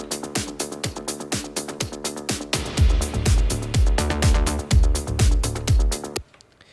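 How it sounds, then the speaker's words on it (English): Dark disco groove in which a deep drum thud sits layered over the kick drum, pounding in a steady four-on-the-floor rhythm alongside busy hi-hats and synths, loud and upfront with no voices, ending abruptly. "It's a thud of a drum, but I'm aware that it layers over the top of the kick drum, so I don't want it to be too subby"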